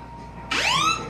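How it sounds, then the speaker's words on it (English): A phone's emergency SOS alarm bursts on suddenly, a loud, shrill rising siren tone with bright harmonics sounding close up after a moment of quiet room hum. "That's a siren."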